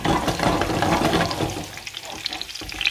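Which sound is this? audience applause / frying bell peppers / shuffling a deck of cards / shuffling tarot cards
frying bell peppers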